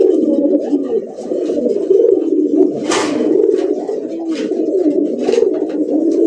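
Pigeons coo steadily at a market stall, a dense low burbling chorus that runs throughout at close range, with a brief rustle or flutter partway through.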